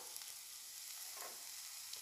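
Chopped vegetables and capsicum sautéing in a pan for paneer veg tikki, a steady soft sizzle and hiss throughout with faint stirring scrapes, quiet and continuous with no talk.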